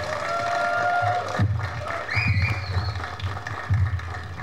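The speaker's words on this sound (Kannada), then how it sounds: "ಪ್ರೀತಿಯ ಚಪ್ಪಾಳೆಯೊಂದಿಗೆ ಸ್ವಾಗತಿಸಿ ವಿಹಾನ್ ಅವರನ್ನ ಪ್ಲೀಸ್" Audience clapping and cheering at a stage event as lead actor Vihan is welcomed, a dense, continuous wash of applause with whoops and a few raised voices over the crowd.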